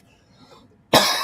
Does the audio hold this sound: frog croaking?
no